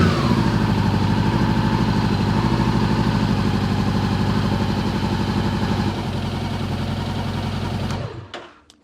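Motorcycle engine running steadily after a new battery is fitted, a loud close rumble with even firing pulses that cuts off near the end, leaving a brief fading rattle.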